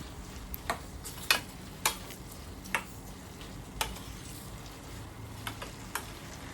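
A spoon stirs kootu curry with roasted coconut in a pan, giving soft, scattered scraping taps and clicks over a faint, low sizzle, quiet and close.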